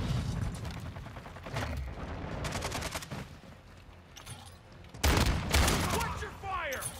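A video game firefight in which rapid bursts of gunfire and shots crackle continuously, loud and close, with booming impacts. Players call out over the shooting.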